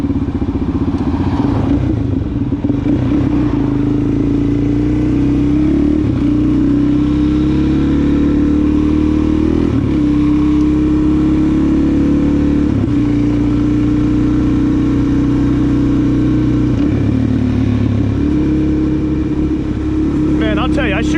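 A Suzuki DRZ 400 SM with a new exhaust tip runs close and loud, holding a steady droning exhaust note with brief revs and throttle blips, alone without talk.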